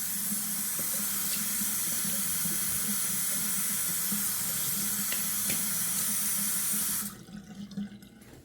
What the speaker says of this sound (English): Rinse the alum.